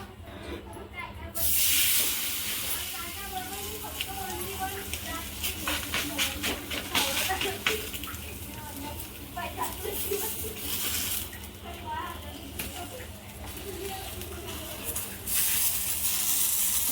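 A multigrain thalipeeth sizzles on a hot tawa, a steady close hiss with bursts of crackling, while someone talks over it.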